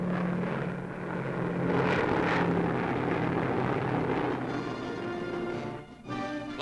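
B-29 Superfortress bombers in wartime Pacific operations drone steadily with a loud, continuous engine roar that swells and holds, ending in a brief dip.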